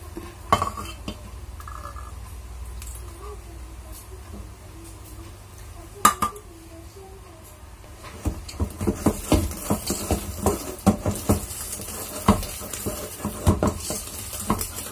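A spoon scrapes and knocks around a bowl while steamed sponge cake batter with butter and oil is stirred, a quiet stretch giving way to steady, busy clinking and scraping.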